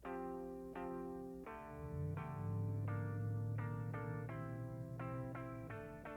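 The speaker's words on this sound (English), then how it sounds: "And this is what it sounds like without the Amplitube on." Electric guitar on a crunch setting with no amp-sim plugin, played as a string of strummed chords with a sustained low bass note swelling underneath, loud and steady, no talking.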